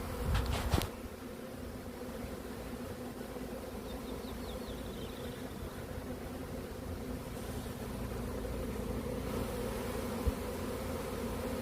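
A swarm of honeybees buzzes around a freshly settled hive in a leafy garden, a dense, steady drone that carries on throughout after a brief thump near the start.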